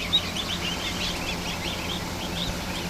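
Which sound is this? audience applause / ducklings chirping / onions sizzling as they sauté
ducklings chirping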